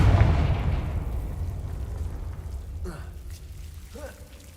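A Confringo blasting spell bursts in Hogwarts Legacy with one loud deep explosion that fades slowly, followed by a couple of fainter effect sounds.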